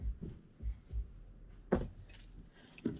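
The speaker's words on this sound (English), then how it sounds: "keys" A set of keys jangles in several short, close metallic bursts with quiet pauses between them, ending in a brighter clinking shake.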